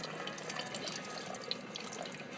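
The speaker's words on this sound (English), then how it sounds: "this is the fly sparge. I'm just pouring water in. as the wort is draining out." Water is poured over a grain bed during fly sparging of a beer mash, giving a soft, continuous splashing trickle at low volume with no talk.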